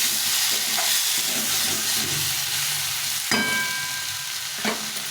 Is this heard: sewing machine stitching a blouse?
no